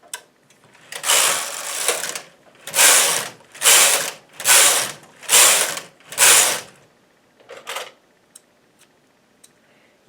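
A knitting machine carriage is pushed across the main bed knitting rows of lavender scrap yarn, five loud rasping mechanical sweeps in steady rhythm followed by a shorter sixth pass and a few small clicks, with no talking.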